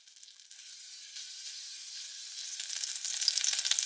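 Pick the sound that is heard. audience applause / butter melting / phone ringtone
butter melting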